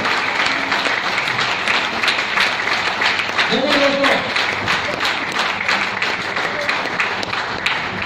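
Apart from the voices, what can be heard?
applause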